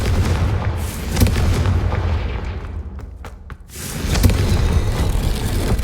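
A Confringo fire spell detonates in Hogwarts Legacy, a loud, close burst of booming, crackling blasts that rumbles on, dips briefly into quieter crackles, then surges again.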